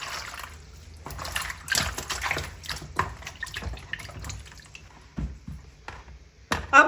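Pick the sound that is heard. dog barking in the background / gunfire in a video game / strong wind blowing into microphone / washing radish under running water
washing radish under running water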